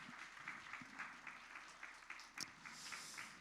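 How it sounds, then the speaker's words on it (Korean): A church congregation gives a faint round of applause for the worship helpers at a young adults' service, a soft, steady patter of clapping heard from some distance. "우리 그 예배를 위해서 힘써주시는 모든 분들을 위해서 한번 크게 박수 한번 보내도록 하겠습니다"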